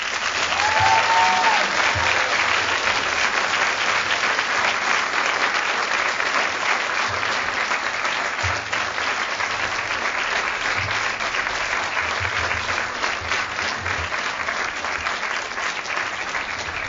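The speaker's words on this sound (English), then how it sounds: "give them a huge and heartfelt round of applause." Sustained applause from a large audience at a school prize day ceremony at Groton School, steady and dense throughout with no pauses, with a faint short voice near the start.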